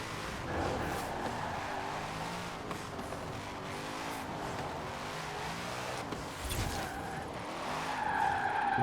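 A Mosler race car in the Forza Horizon 4 video game, its engine roaring and revving as tires skid and squeal through turns, loud and continuous with rising intensity toward the end.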